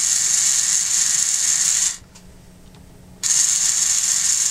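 A LEGO NXT motor spins at high RPM, giving a steady, loud, close mechanical whir with a ratcheting, geared texture that cuts out for about a second midway before resuming at full strength.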